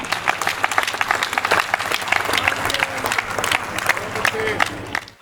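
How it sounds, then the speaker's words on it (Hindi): Audience at a Hindi comedy poetry gathering (hasya kavi sammelan) breaks into loud, sustained applause, dense clapping mixed with crowd cheers filling the whole stretch. "मेरे सम्मान में अच्छी तालियां बजा सकते हैं आप ढंग से दोनों हाथ उठा के एक बार"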